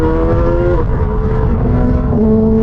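Engine of a KOVE 450 RR or VOGE RR 500 S sport motorcycle revving steadily, a loud, close exhaust note with a sustained tone that shifts pitch through the rev range.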